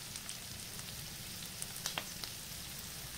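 Carrots tossed into vegetables and protein frying for yakisoba, a faint, steady crackling sizzle with a few light clicks of utensils partway through, close and without talk.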